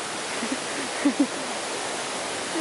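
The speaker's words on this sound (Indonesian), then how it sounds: "I'm so excited about this waterfall" A Bali waterfall pours with a steady, broadband rushing roar that stays even throughout, with a few soft knocks rising briefly above the wash.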